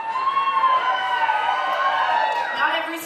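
A concert crowd at The Orange Peel in Asheville cheers and whoops during a show, a steady wash of voices and shouts lasting throughout, loud and sustained without a break.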